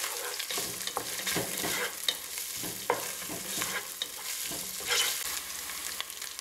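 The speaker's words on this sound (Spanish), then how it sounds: "5 minutos de freír la cebolla" Chopped onion fries with chorizo in a pan, a steady close sizzle broken by repeated scraping and stirring strokes, with no talking.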